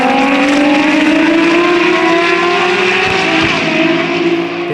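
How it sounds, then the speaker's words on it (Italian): Ferrari FXX and Formula 1 race cars at the Imola circuit, a loud, sustained high-revving engine wail with rising pitch, heard alone and close. "Le auto e le moto da corsa, la prima cosa che ti impressiona è il rumore"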